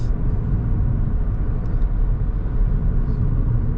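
A car on a driving-test route in Clermont-Ferrand picks up speed past a 70 km/h sign, heard from inside as a loud, steady low engine and road rumble.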